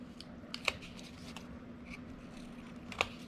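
Scissors snip the ends of paper while trimming pages in a gratitude journal, two sharp close cuts standing out from a soft rustling background.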